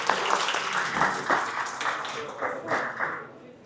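An audience at the Seoul National University College of Natural Sciences 50th anniversary event claps to welcome a student traditional music performance. The applause comes in moderate, uneven waves and fades toward the end.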